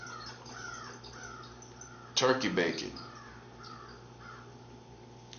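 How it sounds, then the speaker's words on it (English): Several crows caw in a brief burst of loud calls partway through, with a person speaking before and after. "See, you heard those crows."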